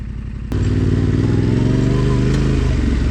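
An adventure motorcycle on a Nevada desert trail at Logandale starts up loudly after a brief idle rumble, then holds a close, steady, throbbing engine drone.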